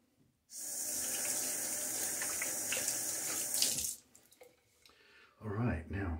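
Running tap water pours loudly and steadily into a sink for about three and a half seconds while a GEM Junior safety razor is rinsed, then cuts off; a voice follows shortly after.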